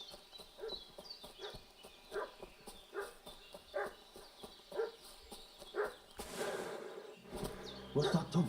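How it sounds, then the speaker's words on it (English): In the Kingdom Come Deliverance video game, a dog barks in a regular series of sharp, moderately distant woofs about every second, over a faint insect-like drone, with a louder rustling burst near the end. "What's that dog making such a fuss about?"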